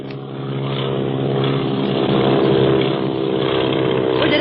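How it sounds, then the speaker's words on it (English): A propeller airplane drones loudly and steadily with a deep, even engine hum that holds throughout. "Where did that other plane come from?"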